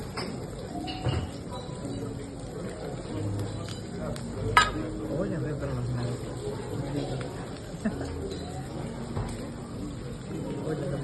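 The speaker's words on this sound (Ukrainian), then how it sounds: "додаю оливку олію та ставлю смажитися тигрові креветки з додаванням чеснику та тим'яну" Tiger prawns frying in olive oil with garlic and thyme in a home kitchen, a soft steady sizzle running under a voice talking, with a couple of small clinks from utensils.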